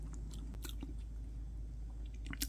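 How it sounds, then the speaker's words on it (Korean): Close, steady chewing of walnut pound cake, with soft crunchy bites of walnut and moist mouth noises, repeated irregularly over a low background hum, no talking. "월넛 파운드를 한번 먹어보겠습니다."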